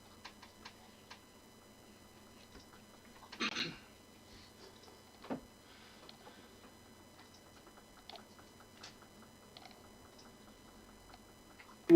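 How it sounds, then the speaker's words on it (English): Dice being rummaged through in a collection, including Legend of Zelda dice: sparse faint clicks and rattles with a couple of brief louder clattering bursts, close and quiet. "I'm just digging out the right dice"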